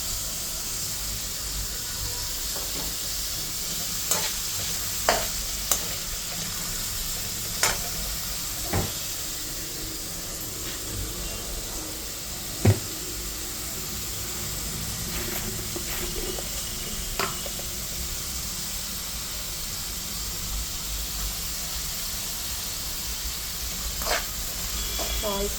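Food frying in oil gives a steady hiss and sizzle for the whole stretch, broken by occasional sharp clinks and scrapes as it is stirred in the pan.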